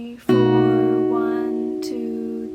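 Guitar chords for the pre-chorus of a song, with every string strummed at once: one loud ringing chord that sustains, then a second strum near the end, with no voices.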